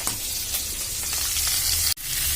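Curry leaves hit hot oil for a crab curry, letting out a loud, close, continuous sizzle and crackle that cuts out for an instant near the end.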